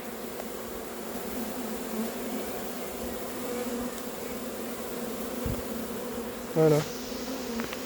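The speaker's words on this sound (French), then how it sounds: "là je suis au milieu des abeilles, il n'y a visiblement pas d'agressivité. Mais ça recommence à voler" A swarm of honeybees flying around a cardboard box on grass, a steady, close buzzing hum that continues throughout, with a brief spoken word near the end.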